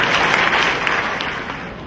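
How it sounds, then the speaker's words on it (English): An audience at an evening stage play applauds a theatre director, a short, even burst of dense clapping with no voices over it. "Give her a big round of applause."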